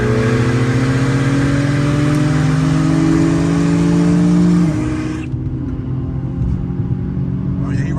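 Twin-turbo Infiniti Q50 3.0t engine at full throttle during a roll race, a loud droning climb in pitch that drops off as the car pulls away, leaving a lower steady road rumble.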